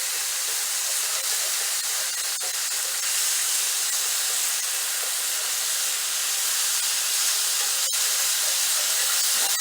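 A pork chop sizzling in a hot pan, a steady, loud bright hiss and crackle that holds without a break, with a couple of faint sharp pops and no talking.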